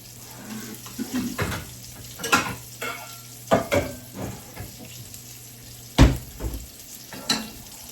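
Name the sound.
potatoes frying in a skillet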